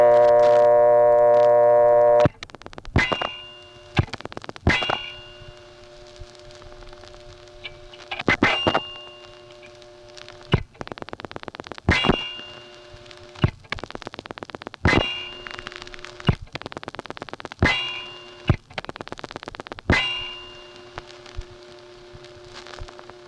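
1976 telephone central office equipment in Step in Gap, Pennsylvania: a steady tone cuts off into a series of sharp metallic clangs and relay clicks, some ringing briefly, repeating irregularly every second or two.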